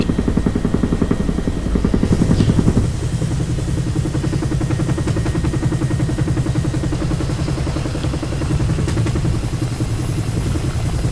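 Milviz Huey helicopter in a flight simulator, a loud steady rotor thump and turbine drone with rapid rhythmic blade slap that shifts character after a few seconds, continuing without talk.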